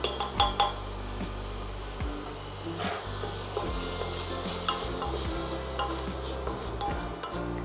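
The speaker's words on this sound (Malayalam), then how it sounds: "സവാള നമ്മൾ എപ്പോഴും വഴറ്റുന്ന സമയത്ത് ഒരു മീഡിയം അല്ലെങ്കിൽ ഒരു ലോ ടു മീഡിയം ഫ്ലെയിമിലിട്ടിട്ട് നമ്മൾ വഴറ്റുക." Onions sautéing in a pan for Kerala mutton curry, a steady sizzle broken by repeated scrapes and knocks of a spoon stirring against the pan.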